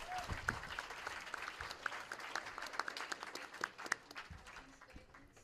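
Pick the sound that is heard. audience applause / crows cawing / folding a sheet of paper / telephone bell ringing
audience applause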